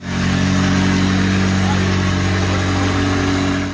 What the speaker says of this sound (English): it sounds like they just started up the McLaren